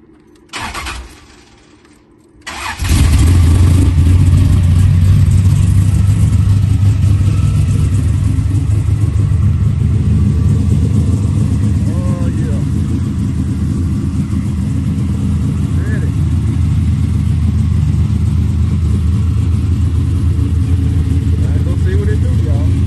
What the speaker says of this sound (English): Let y'all hear how these billet straight cut sound.